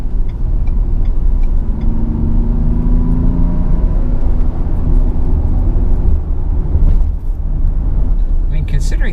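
A 2021 Ford Explorer Limited hybrid SUV picks up speed on the road, with a steady engine and road hum heard from inside the cabin. Continuous low rumble under someone talking.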